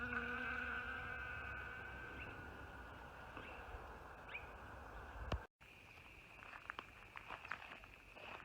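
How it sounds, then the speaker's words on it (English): Bees work the open flowers of a pharaoh cactus for pollen, their faint buzzing drifting in and out over a quiet outdoor background, with a brief dropout midway and soft scattered clicks afterward. "the bees are coming in for all the pollen that it produces"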